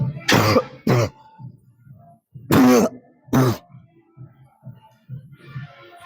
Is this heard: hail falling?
no